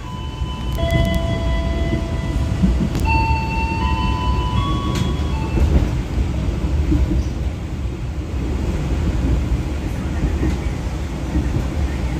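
The Argo Bromo Anggrek train runs on the approach to Cirebon station, a steady rumbling roar of wheels and carriage with high squealing tones from the track, heard continuously from on board.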